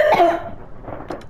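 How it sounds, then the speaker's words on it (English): One harsh, close cough bursts out, followed by a quieter throat sound as it fades. "Sorry, my cough is bad."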